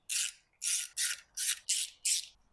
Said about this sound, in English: Tighten this stuff down.